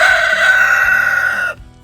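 A rooster named Mr. T crows once in a long, loud, sustained call close by, ending abruptly and leaving near silence.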